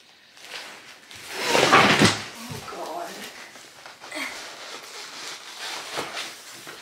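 Heavy three-drawer dresser being assembled, with wooden knocks, shifting and drawer-like bumps, one loud burst early on, and a person talking throughout.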